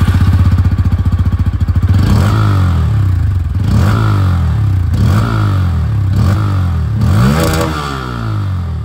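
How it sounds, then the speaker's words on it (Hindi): With its underbelly exhaust, a Bajaj Pulsar N160 motorcycle chugs at a steady idle up close, then gets blipped through about five quick throttle revs, each swelling and dropping back. "तो ये दोस्तों अंडरबिली एग्जॉस्ट की जो आवाज़ है वो भी आप लोगों ने यहाँ पर सुन ली है"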